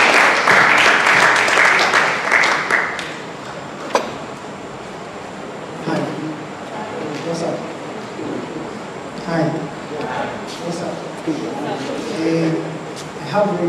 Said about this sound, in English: Please give a round of applause for him.